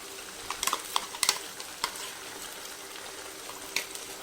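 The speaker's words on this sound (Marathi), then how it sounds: "कांदा थोडासा भाजल्यानंतर हे जे मिक्सरला लावलेली आहे पेस्ट ही घालायची आहे आणि परतून घ्यायचे आहे" Chopped onion and a ground paste from the mixer frying in hot oil, a steady sizzle broken by sharp clattering bursts as the pan is stirred, fairly close and with no talking.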